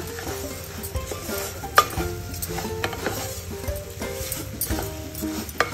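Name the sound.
stirring semolina and sugar in a pan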